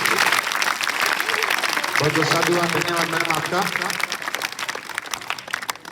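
An audience at a school farewell at a government senior secondary school in Rojari, Rajasthan, claps in steady, dense applause throughout. Someone speaks over it through a microphone.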